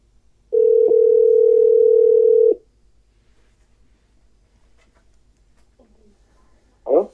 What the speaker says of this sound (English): We're going to dial him right now.